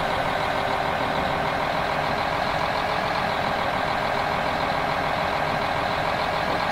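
A Desiro train in Train Simulator 2016 pulls away, its steady loud electric drive and rolling noise filling the scene in an unbroken, even drone.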